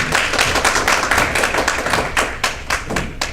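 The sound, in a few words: audience applause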